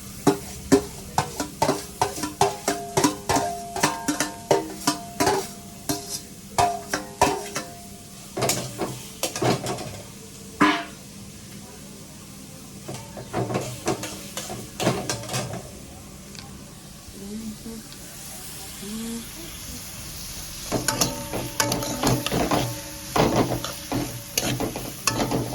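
Onion, capsicum, carrot and chilli frying in a pan, stirred with repeated sharp scrapes and clinks of a utensil over a steady close sizzle, with bursts of brisk stirring throughout.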